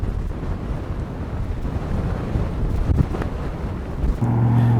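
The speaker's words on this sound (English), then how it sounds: "Boy, wind is blowing like crazy." Strong wind buffets the microphone at Snow Canyon State Park in Ivins, Utah, a loud continuous roar with gusty rumbling throughout and a steadier low drone near the end.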